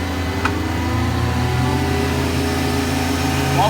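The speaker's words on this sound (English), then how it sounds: "Turn the blower on here, you're going to hear it wind up." Lucas Oil SmartVac vacuum truck blower running at a trade show, a steady loud low-pitched drone with a rising whine that climbs toward the end, heard alone without talk.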